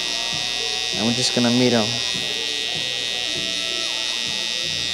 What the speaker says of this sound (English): So I'm going to come in with my trimmer, starting in those two places